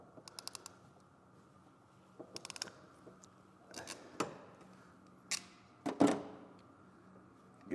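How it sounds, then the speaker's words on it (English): Several sharp mechanical clicks and squeezes from hand crimpers crimping a butt connector, spaced irregularly with quiet gaps, close up with no voices. "And get our crimpers again. Crimp that down."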